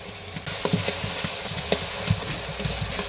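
Spice paste for a vegetarian potato hichki curry sizzles and fries in oil in a pan, a steady close crackle broken by soft stirring clinks, with no talk.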